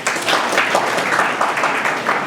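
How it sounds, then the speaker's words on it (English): A room of seminar attendees claps steadily at an idea-generation session, a moderately loud, even patter of many hands lasting a couple of seconds. "please clap for him."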